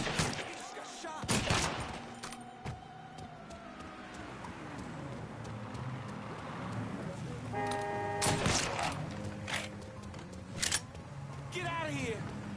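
Gunshots in the Mafia 3 video game, sharp cracks and bursts scattered over a street scene with engine hum and a horn, with voices talking over parts of it.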